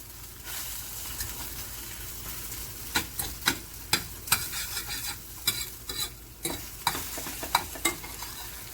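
Huevos con chorizo frying with a steady sizzle in a pan while a fork scrapes and taps to flip and stir the mixture, giving irregular clicks over the hiss.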